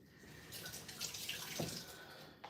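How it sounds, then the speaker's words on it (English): Green onion rinsed under a running kitchen tap, a steady close splashing stream of water with small spattering changes as the stalks move through it, no talking. "let me just rinse off the green onion really quickly"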